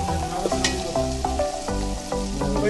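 Chopped onion frying in a pan for beef nehari, a constant dense sizzle with a few louder stirring knocks and scrapes at irregular intervals, close and alone.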